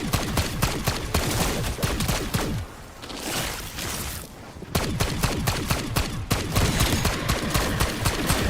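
Rapid bursts of Tsarkov 7.62 gunfire in Black Ops 6 zombies, dense and loud, pausing briefly midway before the sustained firing resumes.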